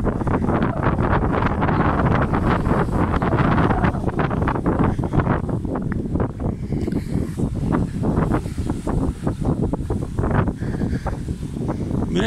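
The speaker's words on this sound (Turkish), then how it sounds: "Bayağı bir rüzgar var." Strong wind buffets the microphone at the seaside in Mürefte, a loud continuous roar with gusting surges throughout, no voices.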